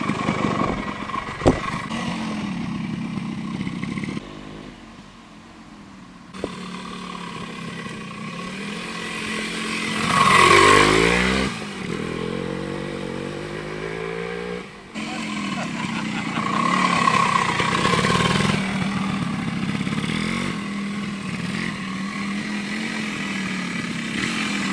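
A 1975 Yamaha DT175 street-legal enduro motorcycle engine runs with a buzzing two-stroke drone, rising in a few revs near the middle and otherwise idling steadily at moderate distance.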